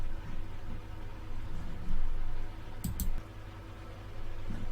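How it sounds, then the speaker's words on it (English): Two quick, sharp computer mouse clicks close together near the middle, sounding crisp and close over a low steady room hum, with no talking. "So I'm just going to click on Formlimiter."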